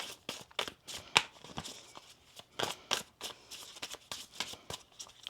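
Cards are shuffled close up in quick, uneven bursts of riffling and sliding, soft and papery, with short pauses and no talking.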